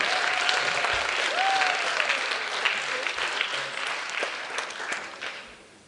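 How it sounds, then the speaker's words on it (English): Sustained audience applause at a TEDx talk in Shanghai, a dense wash of clapping that stays loud through the whole stretch and thins slightly toward the end. "Can we give them all a round of applause?"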